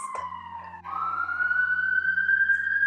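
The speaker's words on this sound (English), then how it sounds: "there's a fire truck outside" A fire truck siren wails past on a busy street below a fifth-floor apartment, its tone sliding and then rising steadily, heard from indoors over a low hum.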